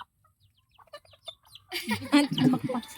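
Chickens on a small farm clucking close by, starting with faint scattered sounds and turning into a louder burst of clucks in the second half, with voices mixed in.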